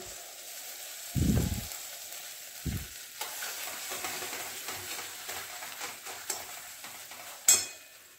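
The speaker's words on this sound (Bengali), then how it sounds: "এই সরটা কড়াইয়ের মধ্যে দিয়ে দিলাম" Milk cream dropped into a wok on a gas stove sizzles with a steady, close hiss, opening with a couple of sharp bursts as it hits the hot metal and then settling into continuous frying with light stirring.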